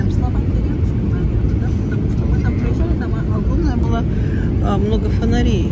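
Inside the cabin of a passenger airplane coming in to land on a trip to Serbia, a steady loud engine roar and rushing air run throughout, with people talking over it.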